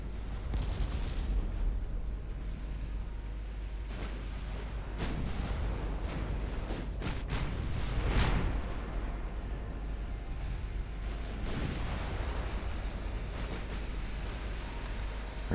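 Naval guns fire high-explosive shells in the warship game Ultimate Admiral Dreadnoughts, a steady series of deep booms and blasts rolling over a constant low rumble, with a heavier salvo in the middle.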